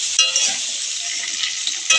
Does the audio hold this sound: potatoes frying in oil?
yes